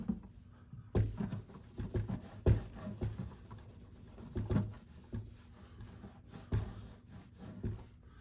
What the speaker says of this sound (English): I'm going to go ahead and just wipe all the dust off of this thing